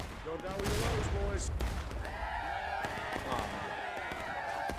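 Gunfire in a Civil War video game battle, scattered musket shots and sharp cracks near and far, mixed with shouting voices throughout.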